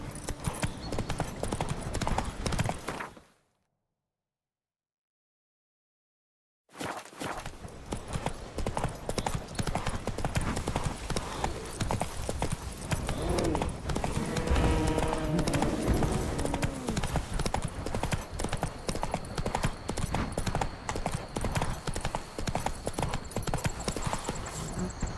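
Roach, a horse in The Witcher 3, trots with brisk, continuous clip-clop of hooves, close and loud, broken by a few seconds of total silence early on, then steady again to the end.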